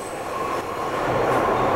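Subway trains run on lines beneath the Twin Towers site, a loud, continuous rumbling roar with a faint metallic whine that builds slightly toward the end.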